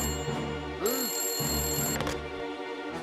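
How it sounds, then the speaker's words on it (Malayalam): A telephone rings in a Malayalam kids' cartoon, with clear repeated electronic bell tones over a soft background tune. "കമ്മീഷണർ സാർ ഇപ്പോഴാണ് എനിക്ക് ഫോൺ ചെയ്തത്"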